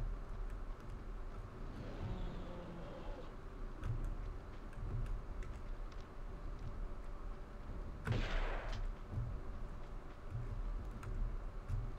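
A single shotgun blast from Tomb Raider II, set in Barkhang Monastery, bursts out near the end over a steady game-ambience rumble and faint periodic ticks.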